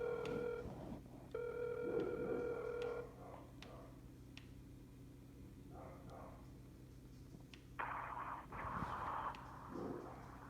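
Phone ringback tone while calling someone back, a steady tone in repeated bursts followed by clicks and line noise, fairly faint and close.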